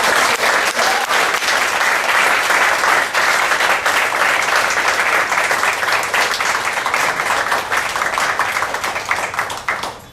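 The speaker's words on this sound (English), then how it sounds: "would you please to give a big round of applause?" An audience at a talk held at Qatar Airways breaks into loud, sustained applause, dense clapping from many hands continuing steadily before starting to fade at the end.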